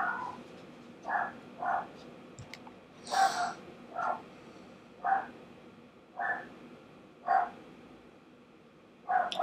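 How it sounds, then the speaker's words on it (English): A dog barks in short, separate yaps roughly every second or so, somewhat distant and fairly faint over quiet background hum, with one slightly longer double bark near the middle. "Hear that dog barking?"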